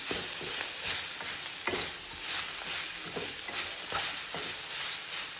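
Rice is stirred in a pan with idli powder, giving rhythmic scraping strokes over a soft, steady sizzle, close and alone without talk.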